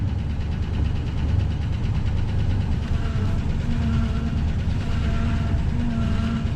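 A 1973 Dodge Dart Sport engine idles steadily after gas tank work, a continuous low rumble with a faint ticking texture, close and loud, with no talk.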